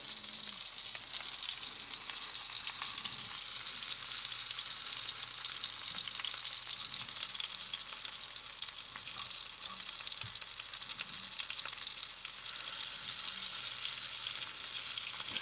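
Onions and hamburger steak frying in a cast iron pan, a steady close broadband sizzle that holds evenly throughout, with faint scattered pops and no talking.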